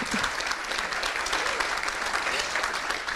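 Steady applause from an evening audience at a school ceremony, dense continuous clapping that holds at an even level from start to finish without pause.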